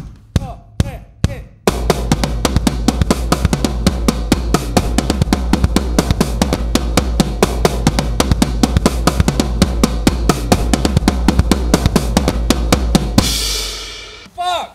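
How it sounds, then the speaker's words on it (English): A drum kit plays a rapid solo pattern, with driving bass drum added under dense, evenly spaced hits. Loud and close, it starts with a few isolated strikes and ends in a washing cymbal swell. "Okay, and now we got the bass drum going on as well, so it should sound like this."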